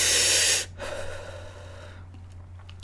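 A long, loud, close inhale of vapor drawn straight from a vape, a breathy hiss that cuts off, then a softer exhale fading into quiet.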